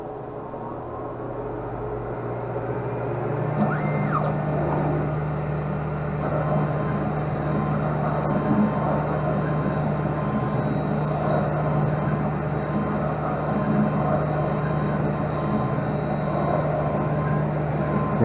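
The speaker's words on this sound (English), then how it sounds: "the lens does not go onto the cutting wheel, it goes to the bevel wheel" An optical lens edger's bevel wheel grinds an eyeglass lens, giving a loud, continuous machine whir and rumble that holds steady throughout with no pauses.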